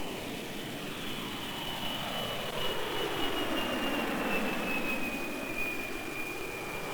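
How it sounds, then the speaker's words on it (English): NASA's QSRA quiet short-haul research aircraft passes in flight, a broad steady jet roar with a high whine that slowly drops in pitch as it moves by, moderately loud and without speech. "You're about to see the flight of a quiet, short-haul research aircraft, better known as the QSRA"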